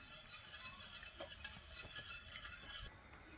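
A spoon stirring Marathi basundi, a thick milk dessert, in a pot over low heat. The scraping strokes come in a steady rhythm and sound quiet and close, with no one talking.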